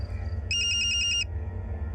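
A mobile phone ringtone on a police crime drama set, a bright repeating electronic melody of quick beeping tones that rings out clearly for under a second over a low background hum, then stops.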